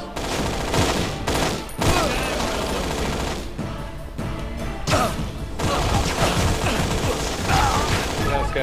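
Rapid gunfire in the shooter game Infernal fills the scene with dense, loud volleys and sustained automatic bursts, briefly pausing between barrages, while a man cries out once over the shooting.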